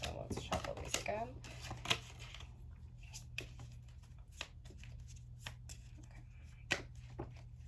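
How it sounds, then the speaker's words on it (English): Tarot cards being shuffled by hand, a riffling flurry at the start followed by sparse soft clicks and taps, close and fairly quiet over a steady low hum. "A few cards came out, so let's shuffle these again."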